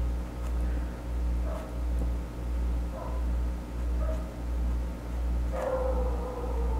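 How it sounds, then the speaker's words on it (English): Dogs barking in the distance, a few faint short barks and yips scattered over a steady rhythmic low hum, ending with a longer whining call. "Sorry, everyone, if the dogs are really noisy."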